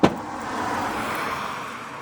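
A 2025 Citroen E-C3 electric car cruises along a quiet country road: a soft, steady tyre and road hum, faint and even, after a brief thump at the start.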